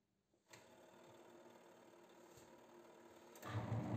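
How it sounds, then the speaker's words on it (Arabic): A repaired washing machine that had stopped working switches on with a click and settles into a steady mechanical motor whir. The whir grows louder and heavier near the end as the drum gets going. "الآن سنجرب تشغيل الغسالة."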